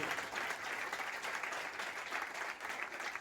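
A crowd at a temple gathering applauds in a steady, fairly faint wash of clapping that holds evenly throughout.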